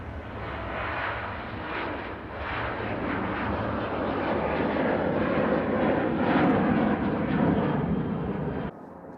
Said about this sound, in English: this Ryanair is going to Rovaniemi, Boeing 737-800